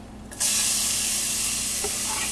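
Food drops into a hot pan while cooking Punjabi dishes, setting off a sudden loud sizzle that continues as a steady, close frying hiss.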